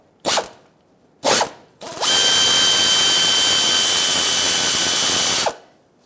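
A power tool unbolts the 8mm pickup tube bolts from the oil pump under a 2008-2010 Ford F-250 Super Duty 5.4L V8, with two short loud bursts followed by a sustained high-pitched whine of about three seconds that stops sharply, with no talking.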